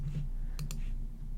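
Two quick, faint clicks from a computer mouse, a fraction of a second apart, over a steady low room hum.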